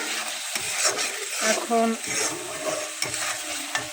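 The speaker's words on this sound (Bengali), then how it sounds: "এই যে কবুতরের গোশ দিয়ে কষাবো সুন্দর করে।" Pigeon meat is stirred and fried with a hand-ground paste of chili, onion, garlic and ginger, producing close sizzling with scraping and stirring strokes, while a voice briefly speaks.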